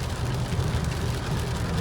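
Heavy rain drums steadily on a car during a drive toward Yasothon, a dense, even hiss with a low road rumble, loud and constant with no voices.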